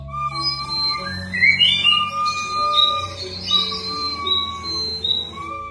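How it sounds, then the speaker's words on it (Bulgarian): Songbirds chirp and whistle among autumn-colored trees, a dense, steady chorus of overlapping high trills and calls close at hand, with a low background hum beneath. "А над главата ми, в клоните на обагрените в есенни цветове дървета, пееха птички."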